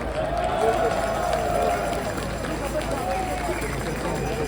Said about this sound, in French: On peut faire un tonnerre d'applaudissements.